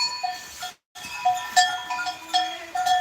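A first-time mother goat, a native-breed doe about a year old, bleats repeatedly in short, wavering calls at close range, with quieter bleats between the louder ones and a brief silent gap.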